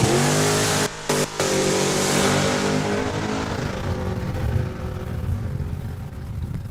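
Camaro launching down a quarter-mile drag strip at a raceway, a loud engine roar after brief cutouts at the start that fades steadily into the distance as the car runs away.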